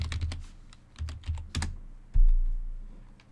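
Close, loud keystrokes on a computer keyboard while logging in to Windows 10, an irregular burst of taps followed by a single heavier thump near the end, with no talking.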